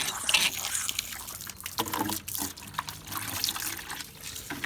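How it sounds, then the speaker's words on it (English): A garden hose runs water into a bucket being filled for cleaning an air filter, giving a steady close splashing and gurgling rush with small drips, with no talk over it. "Turn on my hose here."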